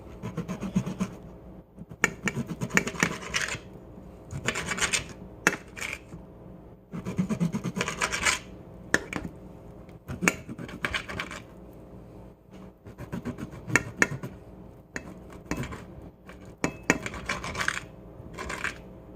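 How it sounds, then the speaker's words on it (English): A knife slices a pork chop into strips on a cutting board, making repeated close scraping and rubbing strokes in uneven bursts with brief gaps. "I'm going to take some of these and cut them into strips."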